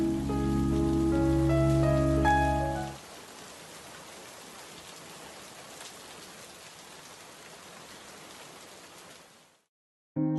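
Steady rain hisses in a cartoon scene, a soft, even patter after a loud musical opening, fading out near the end before the music briefly returns.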